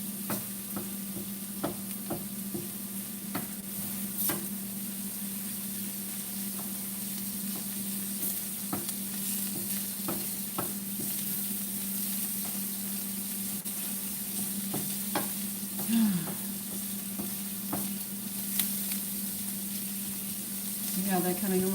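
Mushrooms and sautéed onion cooking down in a pan, a quiet continuous sizzle with occasional stirring clicks and scrapes over a steady low hum, with faint talk in the background.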